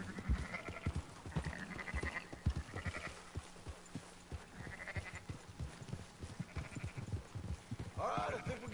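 Several sheep in Red Dead Redemption 2 bleat repeatedly at a moderate distance, their calls recurring every second or two over soft hoofbeats and faint ambient noise, with a voice speaking near the end.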